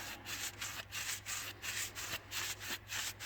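Brush strokes spreading sealer onto a garage wall, a soft rhythmic scraping swish repeating about every third of a second, close but quiet with no talk.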